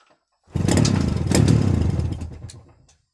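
A Jawa 350 motorcycle engine with CDI ignition starts up close, revs to a loud clattering peak, then fades away over a couple of seconds as the throttle is released.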